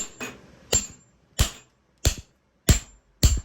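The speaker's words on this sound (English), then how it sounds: "Ratchet extension, I'm just gonna hammer it in." A ratchet extension is hammered into the steering tube of a Surron Light Bee X electric motorbike: six sharp metallic blows land at a fairly even, unhurried pace, each short and close with a brief ring, separated by near-silence.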